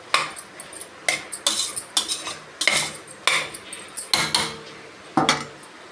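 A metal spoon scrapes and clanks against a pan while onions and masala are sautéed for a chapati gravy, irregular rhythmic strokes close up with no talking.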